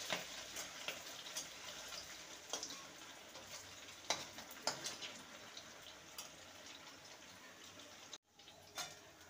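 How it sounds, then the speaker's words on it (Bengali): Bora fritters deep-fry in refined oil in a kadhai over a high flame, a quiet, steady sizzle with scattered pops and a few light clinks, heard close but faint. "এবারে এইগুলোকে ভেজে নেব।"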